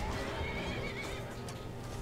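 A horse whinnies in the video game Skyrim, a close, loud neigh with hoof clip-clops running through the short stretch.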